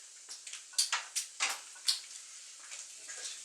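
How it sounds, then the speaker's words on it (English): A spoon scrapes and clinks against a pan while stirring chilli con carne, a string of light, fairly close metallic strokes that are quiet and irregular, with no talking. "I'll get my spoon, stir that up, helps it heat up a bit quicker."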